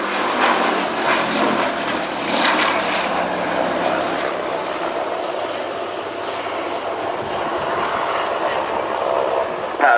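A 1930s Gloster Gladiator biplane fighter with an 840 horsepower Bristol Mercury radial engine drones steadily overhead at Old Warden, a sustained loud propeller roar that swells and fades slightly while a commentator talks over it.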